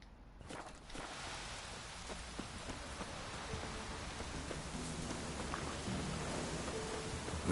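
Steady rain in the video game The Witcher 3: Wild Hunt patters on surfaces, starting after a brief quiet moment and growing slightly heavier, with scattered drips.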